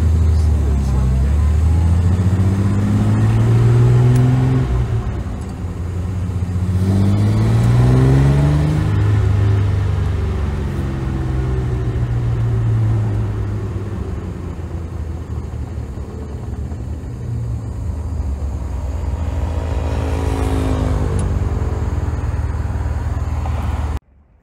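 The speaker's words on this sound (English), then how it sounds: "So we're going to continue the driving or test drive video of this 1960 Austin-Healey 3000." A 1960 Austin-Healey 3000 Mk I BT7 drives along with its engine droning and rising and falling through gear changes, loud and close, under ongoing talk.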